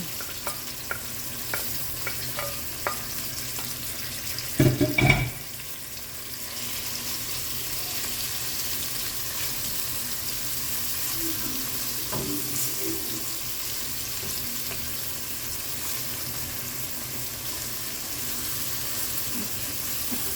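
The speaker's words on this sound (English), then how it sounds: "And you're just gonna saute them just a little to bring out the flavor" Onion, sweet pepper, thyme, tomato and scallion sautéing in a pan for Jamaican steamed cabbage, a steady soft sizzle throughout with a brief louder clatter of stirring early on, no voices.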